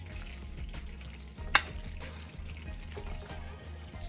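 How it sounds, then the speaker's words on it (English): Cheese stirred into baked macaroni and cheese, with a wet, thick churning and squelch under a low steady hum, one sharp clink near the middle, no talking. "Stir some more up in it."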